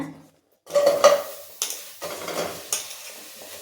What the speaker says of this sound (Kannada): ಹಾಗಲಕಾಯಿ ಹಾಕ್ತೀನಿ, ಹುರ್ಕೊಳ್ಳೋಣ ಹಾಗಲಕಾಯಿನ